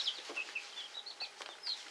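Week-old young chickens in a brooder box keep up a continuous chorus of high, bright peeping chirps, close and fairly soft, with no one talking.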